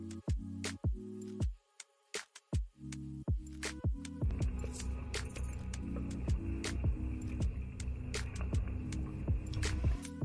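LEM electric meat grinder grinding deer meat (venison), a steady low motor hum with faint rhythmic throbbing that starts with brief bursts and then runs continuously, close and moderately loud, with no talk.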